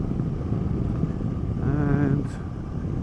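Engine of a 2016 Honda CB500X motorcycle rises in pitch as it revs, a steady harmonic whine climbing over a loud, rumbling wind-buffeted background before easing off.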